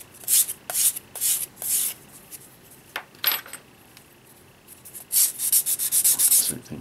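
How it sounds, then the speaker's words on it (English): A drilled hole in a rocket tube part for a Damnation Alley Landmaster model is deburred by hand, giving bursts of short, close, scraping rubs in quick rhythm, separated by quiet pauses. "So I'm just deburring the drill hole."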